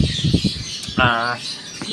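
Pet birds squawk and chirp during breeding season, a few short harsh calls close by, with a voice talking over them.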